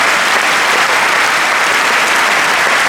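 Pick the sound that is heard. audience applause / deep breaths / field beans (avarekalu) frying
audience applause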